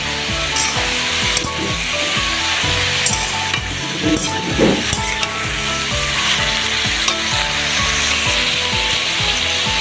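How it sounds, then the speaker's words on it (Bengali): Soaked chickpeas hit a hot pan and fry with a loud, steady sizzle, joined by bursts of scraping and stirring up close. No one speaks. "ভেজিয়ে রাখা ছোলা দিয়ে দেবো"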